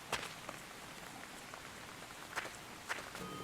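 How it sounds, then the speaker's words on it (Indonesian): Steady rain patters on the ground in the horror video game No Rest, a soft continuous hiss broken by a few sharper taps that sound like footsteps. "Dan tiba-tiba hari mulai hujan."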